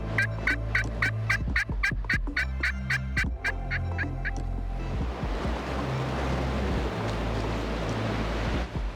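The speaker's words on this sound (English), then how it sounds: "The gobbler's right behind" Wild turkey gobbler gobbling during a windy Kansas hunt: a rapid series of loud, close gobbles in quick succession for several seconds, followed by a roar of strong wind buffeting the microphone.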